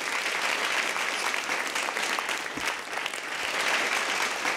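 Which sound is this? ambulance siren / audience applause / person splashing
audience applause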